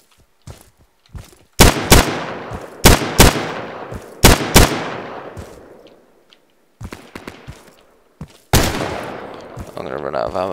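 Gunfire in the video game Insurgency: several loud, close bursts of shots with sharp attacks and decaying echoes, separated by quiet gaps, with a final burst near the end.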